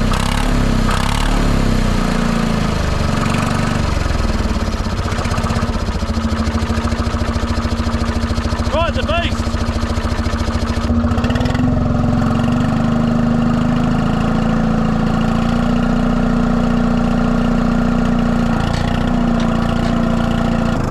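An Allis-Chalmers HD5 dozer with a Detroit diesel 2-71 engine runs steadily throughout, a loud, close, continuous two-stroke diesel drone whose pitch lifts slightly partway through as throttle is added; no voices.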